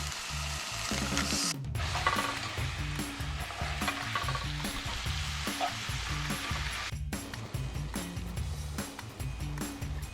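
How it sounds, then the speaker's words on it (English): Meat sizzles steadily in a hot pan with a little olive oil, with occasional scraping and stirring noises mixed in, close up. "Hear that sizzle?"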